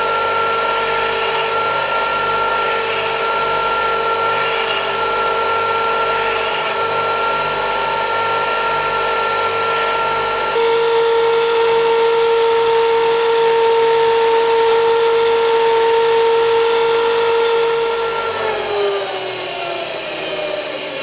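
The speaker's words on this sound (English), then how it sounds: "So I'm just going to show you how I grind up the stamps." A power grinder runs continuously, grinding clean the surfaces and ends of metal stamping punches with a loud, high-pitched whine that shifts pitch partway through and winds down near the end.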